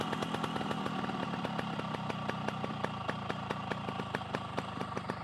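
A Yamaha RXS 115 motorcycle engine idles steadily and close by, with a rapid, even single-cylinder beat and regular sharper ticks running throughout.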